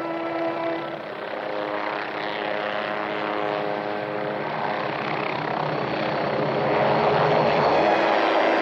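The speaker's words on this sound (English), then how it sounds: "it's a helicopter." A helicopter flying, with a steady, loud rotor and engine drone that holds evenly throughout and swells slightly toward the end, with no voices.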